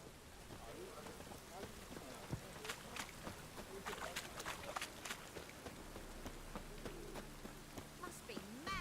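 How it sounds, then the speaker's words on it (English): Steady rain pours down in The Witcher 3, a continuous soft hiss of drops on surfaces with scattered crackles, faint and even throughout, with no talk over it. "Must be mad running around in this rain."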